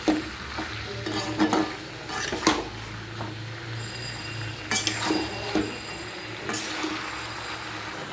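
Spinach and mixed vegetables cook in a pan, a steady low sizzle broken by several sharp scrapes and clinks of a utensil stirring against the metal, close and fairly loud, with no voices.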